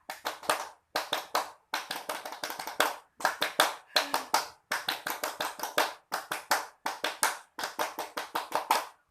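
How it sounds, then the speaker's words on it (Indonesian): A class of schoolchildren performs the Scout rhythmic clap (tepuk pramuka) in unison, with sharp, close clap bursts in repeated patterned groups separated by short pauses. "mari kita tepuk pramuka 3 kali ya"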